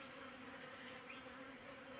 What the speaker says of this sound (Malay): So geng tengok banyak lebah ni datang. Ni lebah apis cerana